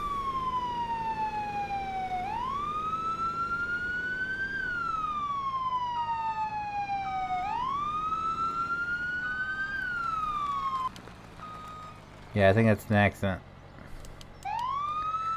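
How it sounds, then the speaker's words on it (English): A fire truck siren in the Farming Simulator 17 video game, on a modded fire engine: a loud wailing tone that rises and falls in long sweeps, briefly broken by a short burst of another alert tone, with someone speaking over it. "if you hit the siren without turning on N, or hitting N, the lights don't come on"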